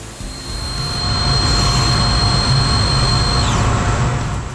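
Citizen L32 Swiss CNC lathe facing off the end of bar stock, a loud steady machining roar with high whining tones that hold and then drop away, continuous and close.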